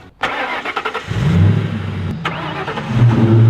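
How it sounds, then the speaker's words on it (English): A car engine cranks with a quick series of starter chugs, then catches and fires up, settling into a loud idle with a brief rev. "Listen to this startup."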